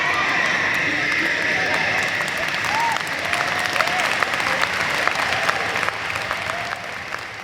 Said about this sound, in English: you can hear the applause on the tape